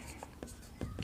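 Chalk or marker scratches on a board during a maths lesson: a few short strokes, close and quiet, mixed with low background noise.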